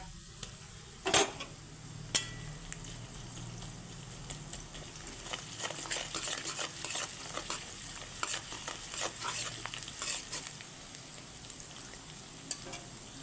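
Ginger paste stirred into a frying pan for doi potol, a soft sizzle under repeated scrapes and clanks of a spatula against the pan, sparse at first and then busier.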